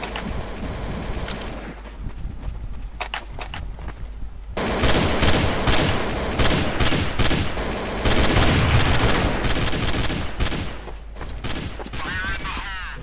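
Rapid bursts of rifle gunfire from Counter-Strike 1.6 bot-match gameplay, loud and dense, with repeated volleys and sustained automatic fire across the whole stretch, occasionally mixed with game effects.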